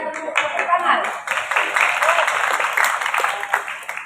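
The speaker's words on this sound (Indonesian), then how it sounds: "Ya, tepuk tangan." Audience clapping at a school orientation opening ceremony in Bekasi, a dense burst of applause that starts strong, holds and tapers, with voices mixed in underneath.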